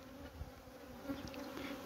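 Honeybees buzz steadily around a bucket water feeder where they gather to drink, a continuous close insect drone with a few louder passes, and no voices.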